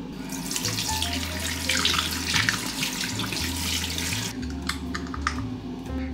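Tap water runs steadily into a sink to rinse a dental product, a continuous splashing flow with a low hum in the room and no talking.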